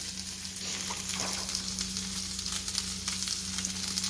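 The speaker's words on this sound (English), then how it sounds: "we're going to add those onions." Onions frying with garlic in a pan for a Spanish chorizo and shrimp dish, giving a steady close sizzle with scattered crackles and pops throughout, no talking.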